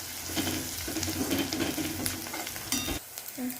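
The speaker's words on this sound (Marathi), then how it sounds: "कांदा चांगला परतून घेऊ आपण कांदा चांगला पण परतून घेऊ" Onions sautéing in a pan for a quick pasta dish, a steady close sizzle with stirring scrapes throughout, briefly dipping near the end before resuming.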